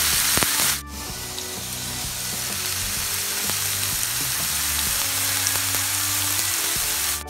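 Eggplant and garlic fry steadily in a pan, a loud, close, continuous sizzle that jumps in with a sharp burst near the start and then keeps hissing evenly, with no one talking.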